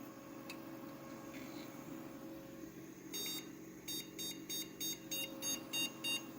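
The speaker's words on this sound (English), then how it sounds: "I just heard a beep." A Prosys S478 desktop PC with a video card fault sounds its error code, a series of short, sharp beeps in a steady repeating rhythm, quiet and close, over a faint fan hum.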